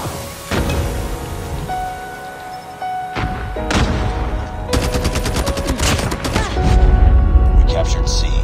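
DR-H/SCAR-H rifle gunfire in Call of Duty Mobile: quick bursts and single shots snap out repeatedly over thuds and busy game effects, growing denser toward the end, with a voice briefly heard in the mix.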